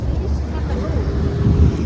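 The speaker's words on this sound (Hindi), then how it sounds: "बहुत ठंड है, इतनी हवा चल रही है, इतनी हवा चल रही है" Strong cold wind buffets the microphone at Har Ki Pauri in Haridwar, a continuous low roaring rush with gusty swells, heard outdoors near the river.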